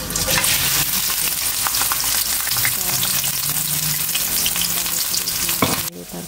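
Onion fries vigorously in well-heated oil at the start of a sheep liver dish, a loud, dense, continuous sizzle with scraping stir strokes, ending in a sudden drop near the close.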